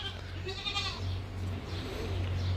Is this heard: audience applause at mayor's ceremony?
no